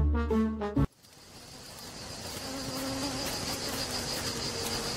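Bees buzzing steadily after a brief musical jingle, a continuous drone of wings close by that holds at an even level to the end.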